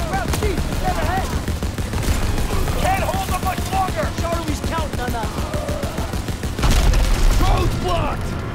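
Gunfire rattles through a World War 2 video game mission, a dense stream of repeated shots and bursts heard under frequent shouting voices and engine noise.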